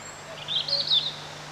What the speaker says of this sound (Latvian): Svilpis.